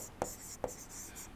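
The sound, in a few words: writing on a lecture slide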